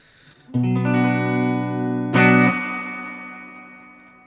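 Electric guitar played through a Fender Hot Rod Deluxe amp with heavy reverb: a sustained chord rings out, a second strum follows, and a long reverberant tail lingers and slowly decays, with no talking.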